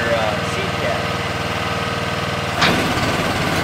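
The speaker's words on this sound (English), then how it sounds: "we've got the Honda engine fired up" Honda engine on a TruAg Defender 2 seed tender idling at a steady, moderately loud drone, with a brief rise in pitch near the end.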